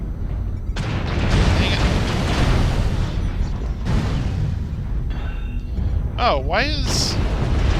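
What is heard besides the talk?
artillery strike explosions in MechWarrior Online video game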